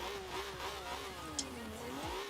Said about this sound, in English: we're going to go ahead and give it a couple of revs